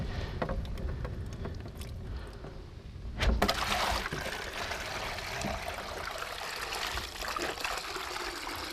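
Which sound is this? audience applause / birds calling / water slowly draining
water slowly draining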